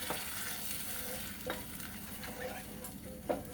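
Oil-rich masala frying in a pan for a Bengali fish dish with orange juice, sizzling steadily up close with a few sharp stirring scrapes, no talking.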